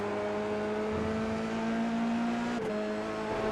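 Onboard engine of an Italian Formula 3 style race car in iRacing at Donington, a steady sustained drone with a brief shift-like dip near the end, constant and close with no talk.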